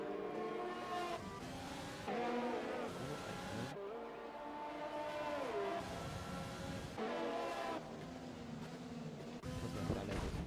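Race cars in the F1 2020 game scream past, the engine note rising and falling through gear changes over a steady roar, with a brief tonal sweep midway like a skid.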